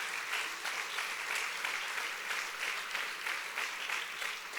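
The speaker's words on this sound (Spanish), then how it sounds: "Aplaude fuerte al Rey." A Spanish-speaking church congregation applauds loudly during a sermon, a thick, continuous roar of many hands that stays even and sustained from start to finish.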